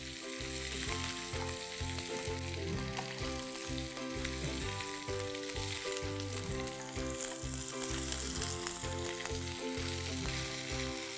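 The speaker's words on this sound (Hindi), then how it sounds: "इसे आस्ते आंच पे पकाएंगे 2-4 मिनट के लिए, ताकि हमारे अनियंस अच्छे से गल जाएं।" Onions for malai pyaz cook over a low flame in a pan, producing a soft, even frying hiss that holds steady throughout beneath quiet background music.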